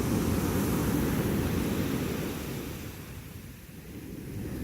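Steady broadband rush of sea waves washing on a sandy shore, a continuous low roar that swells and eases slightly, with no voices.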